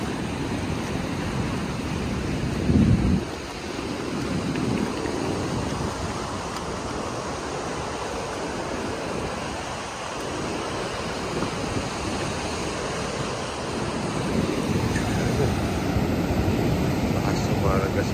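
Ocean waves surge onto a rocky beach at Lian, Batangas, a continuous loud roaring wash of surf that swells near the end, with wind noise and a voice speaking briefly over it.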